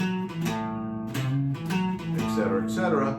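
Guitar strumming a boogie blues accompaniment in a swing rhythm, bouncy chords shuffling through changes over about three seconds, close and moderately loud, with no voices.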